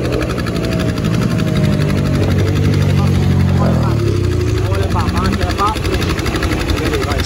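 A car engine idles steadily right after starting, a loud low rumble running the whole time with a faint vehicle whine above it and no clear revving.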